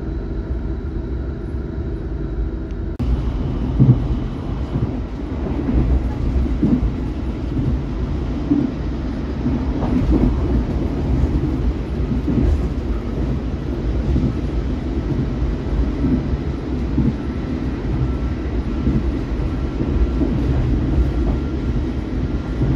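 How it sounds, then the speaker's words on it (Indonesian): The KA Tegal Bahari passenger train runs steadily on rails after leaving Bekasi station, with a continuous loud rumble and clatter of wheels heard from inside the carriage for the whole stretch. "kereta api Tegal Bahari diberangkatkan kembali dari stasiun Bekasi"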